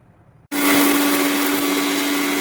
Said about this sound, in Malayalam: ഇതാട്ടോ മിക്സിയുടെ ജാറിലിട്ട് പൊടിക്കുന്നത്